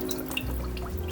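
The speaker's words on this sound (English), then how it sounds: "turning on the faucet" Water runs steadily from a faucet over hands during handwashing, a soft continuous splashing with faint dripping, close and quiet.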